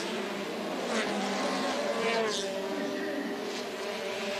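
Formula Renault race car, 2005 season in Salvador, threading through a chicane with a steady engine drone that rises and falls slightly, heard from a distance amid continuous trackside ambience.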